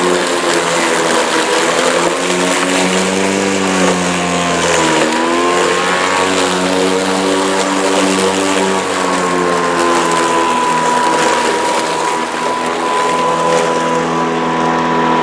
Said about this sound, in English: when it hits the high grass, you can hear the engine rev